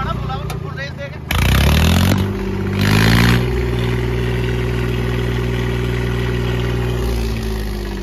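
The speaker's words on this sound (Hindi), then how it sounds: "ये देख लो भाई ने साइलेंसर उतार रखा, आरपीएम भी दिखा दो दोस्तों कितने आरपीएम है ट्रैक्टर के" A tractor engine with its silencer removed revs hard at full throttle, reaching about 2200 rpm. The loud, raw exhaust roar swells in two bursts and then holds a steady drone, with people talking over it.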